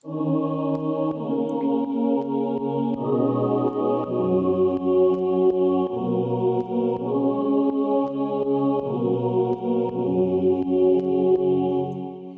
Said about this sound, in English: The next sound we have here is a choir singing and soloed out.